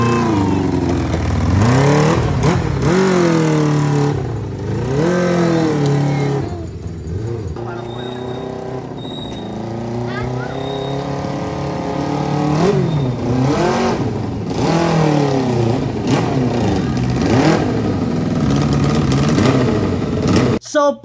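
A big bike motorcycle engine, a nearly finished project build, runs outside, its revs swelling and dropping in repeated throttle blips over a steady idle, loud and close throughout.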